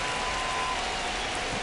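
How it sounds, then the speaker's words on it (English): Steady rain falls throughout in the MLB The Show 25 baseball video game, a dense, even hiss of drops on the surface with no break; no talking. "This rain is not letting up."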